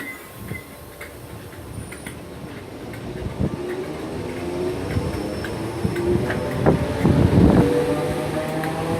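The 12:44 train pulls out of Kirkdale station with a steady rolling rumble, rising toward the end. Scattered wheel squeals and clanks join it, and wind buffets the microphone throughout.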